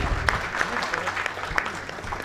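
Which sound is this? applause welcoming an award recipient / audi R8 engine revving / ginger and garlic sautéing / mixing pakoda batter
applause welcoming an award recipient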